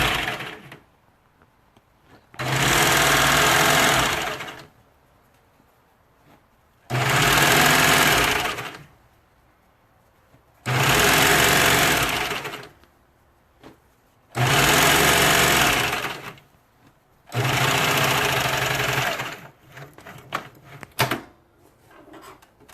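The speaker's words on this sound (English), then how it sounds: "So much faster with a cover stitch machine than using a sewing machine. Why is that? Did you see how it zipped through it?" A cover stitch machine runs in five separate loud bursts of steady, fast whirring while hemming sleeves on a Laundry Day Tee, with short quiet pauses between runs and a few light clicks at the end.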